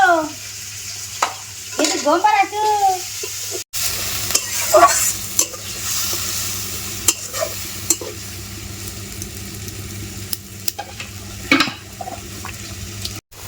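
Ginger-garlic paste and ground spices sizzling and frying in a pan, a steady crackle under the scrape and clatter of a spoon stirring, with brief high squeaks early on.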